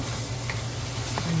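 Clams cooked with bagoong are stirred in a hot pan, with a steady sizzle and frying crackle under brief scraping stir sounds.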